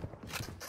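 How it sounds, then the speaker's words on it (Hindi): Gun reloading in a shooting video game, heard as a brief burst of close mechanical clicking and clacking that lasts under a second, with no talk. "रीलोडिंग"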